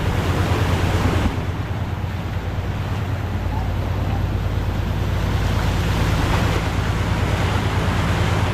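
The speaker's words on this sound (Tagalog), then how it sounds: "Masyadong sunod-sunod ang alon doon." Rough sea swells break against a small wooden outrigger bangka, a constant roaring wash of surf and wind buffeting the microphone, close and loud throughout.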